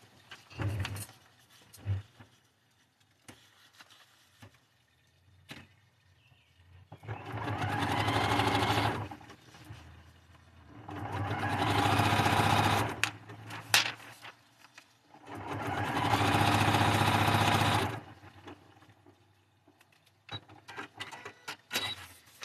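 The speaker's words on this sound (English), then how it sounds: "And I'm going to sew it." A sewing machine stitches a quilt block in three sustained runs of steady mechanical whirring, each several seconds long and close up, separated by quiet pauses with handling noises.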